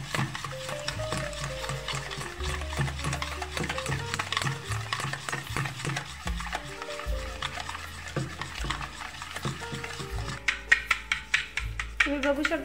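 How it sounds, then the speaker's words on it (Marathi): Curd and sugar being whisked in a bowl, with quick tapping spoon-against-bowl strokes running steadily under louder background music and growing sharper near the end. "आम्ही इथे दही घेतलेला आहे आणि त्यामध्ये 2 वाटी साखर टाकत आहे आणि चांगल्या प्रकारे फेटून घेत आहे"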